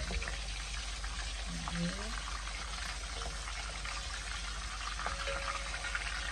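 Chicken pieces frying in a pan, a steady faint crackling sizzle running throughout with a brief clink of utensils early on.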